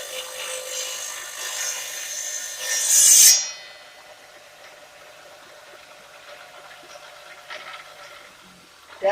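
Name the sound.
tile being cut against a saw blade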